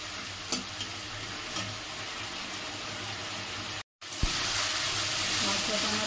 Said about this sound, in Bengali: সেটা দিয়ে টমেটোর সঙ্গে ভালো করে আমি মশলাটা কষিয়ে নেব।